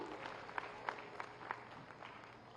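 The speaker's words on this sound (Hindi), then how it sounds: "तालियां बजे जरा।" Faint, scattered clapping from an audience at a Viksit Bharat Sankalp Yatra event with the Chief Minister in Akbelpur village, Azamgarh, where certificates are being handed out. A few distinct claps stand out over a thin, distant crowd wash.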